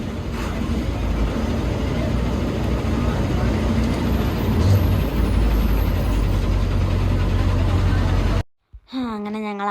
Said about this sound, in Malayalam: അങ്ങനെ ഞങ്ങൾ അടുത്ത ബസ് കയറി